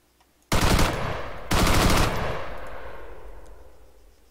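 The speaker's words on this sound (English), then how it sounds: "That is a freaking light machine gun." A light machine gun, a squad weapon in Arma 3, fires two loud, close bursts, the second trailing off into a long echoing decay with no one speaking.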